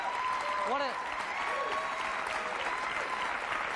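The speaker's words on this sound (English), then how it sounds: "What a spontaneous applause." Studio audience applause at a live television comedy show, steady dense clapping throughout, with brief tonal swooping sounds layered over it near the start.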